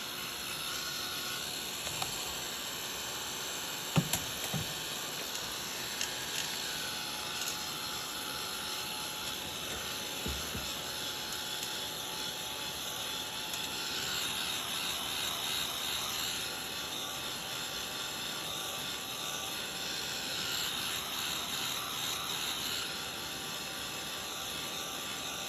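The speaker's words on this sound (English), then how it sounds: "So I need, I think, to heat it with a heat gun" A heat gun drying stencil ink on a painted background blows with a steady, continuous whirring rush. It is faint and unbroken throughout, with a few small knocks and no talking.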